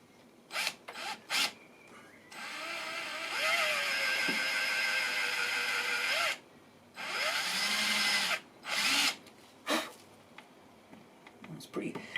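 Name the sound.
power drill boring into hardwood for a beer tap handle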